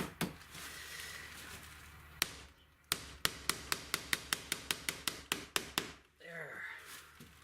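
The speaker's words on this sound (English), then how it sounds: "After a million hammer blows and the wall just going like this in behind it" A hammer drives a nail into window trim, with a few scattered blows followed by a rapid, steady series of about a dozen sharp, close strikes, then a brief pause and faint rustling.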